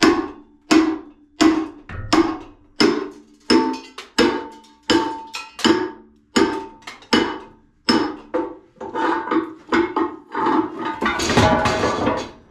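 A hammer strikes a tool wedged between radiator parts during copper scrapping. About eighteen sharp metallic clanks ring out in a steady, loud rhythm, and the blows grow denser and rougher toward the end.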